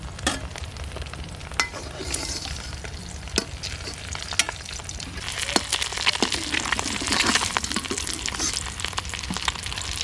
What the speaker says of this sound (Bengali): ডিমগুলো লাল লাল করে ভেজে নিচ্ছি